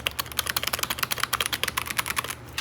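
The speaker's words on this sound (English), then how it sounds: "Look at this really fancy left-handed mechanical keyboard." Quick, steady keystrokes clack on a left-handed mechanical keyboard, close and crisp, with a continuous rhythmic patter and no talking.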